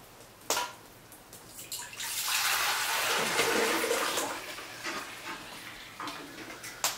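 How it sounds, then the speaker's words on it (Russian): Water pours steadily into a dental technician's pressure-pot polymerizer, a broad rushing splash that swells for a couple of seconds and then tapers into lighter trickling, close and fairly loud with no talking. "сейчас мы возьмем воду и нальем в эту кастрюлю"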